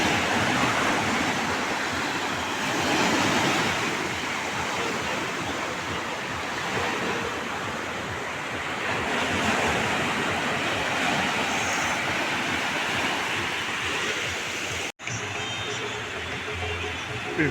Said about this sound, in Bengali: ঢেউগুলি আসছে, আছড়ে পড়ছে এসে।